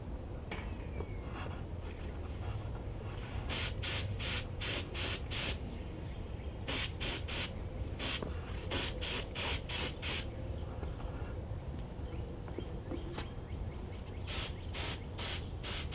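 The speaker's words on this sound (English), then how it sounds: "you can turn this and get your fan spray in different angles or directions." A paint spray gun coats engine parts during an REO engine restoration, firing repeated clusters of short, loud hissing bursts over a steady low background hum.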